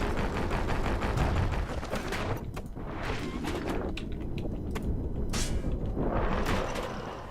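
A mortar weapon fires again and again in the action game Bastion: dense, loud bursts and thuds keep coming with hardly a pause, mixed with game impacts and effects throughout.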